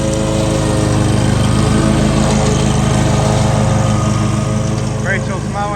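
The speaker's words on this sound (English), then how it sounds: "we're mowing at 4 inches here" A lawn mower cuts grass between six and twelve inches tall at a four-inch deck height, its engine droning loud and steady throughout with a slight load dip midway.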